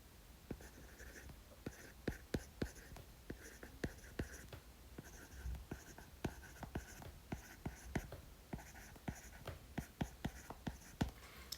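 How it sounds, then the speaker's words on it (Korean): A pen or pencil scratches across paper in quick, rhythmic strokes, with soft taps between letters. The writing is close and quiet, and it runs alone through the whole stretch. "그럼 그걸 한번 써볼게요."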